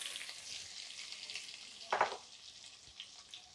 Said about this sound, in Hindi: तेल हमारा गर्म हो गया है, इसमें मैं कटहल को डाल देती हूँ।